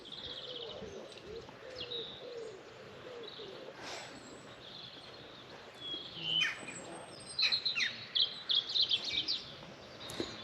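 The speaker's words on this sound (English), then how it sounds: "I don't know if the microphone's picking up all the bird song." Birds sing and chirp around a cafe veranda overlooking a site, with pigeon or dove cooing among a steady outdoor ambience; bright chirps cluster near the end.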